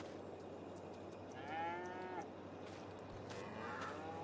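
Cattle mooing on a farm in the video game Farming Simulator 22, a couple of drawn-out, moderately loud calls rising over steady farmyard ambience.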